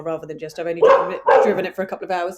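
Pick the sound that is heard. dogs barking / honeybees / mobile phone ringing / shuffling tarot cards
dogs barking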